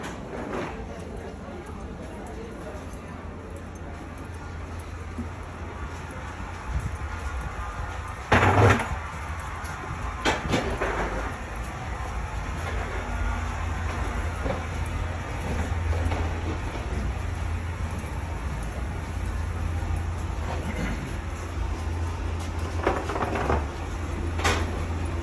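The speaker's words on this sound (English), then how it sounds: "Takeoff has begun" A Frontier Airlines Airbus A321-200 rolls down the runway for takeoff at Chicago O'Hare, a steady low cabin rumble with scattered rattles and thumps, heard from inside with no talk.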